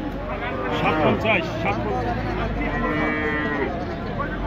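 A Sahiwal-cross cow gives a loud, drawn-out moo at a busy cattle market, then a second one. Background chatter from the crowd and nearby voices runs underneath.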